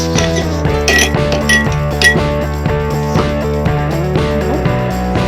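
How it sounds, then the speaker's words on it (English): Ice cubes drop into a glass for a watermelon mojito, giving a run of bright, close clinks over a steady musical background. "Add some ice cubes into the glass."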